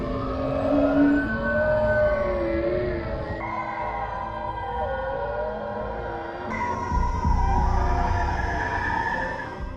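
Whale calls played at reduced speed, a sequence of long, sliding tonal moans and sweeping whistles layered over a low rumble, loud and continuous with no speech.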